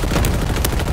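Loud, close rapid gunfire in the video game Shadow Company ops, a short burst of overlapping shots with sharp cracks standing out over continuous firing.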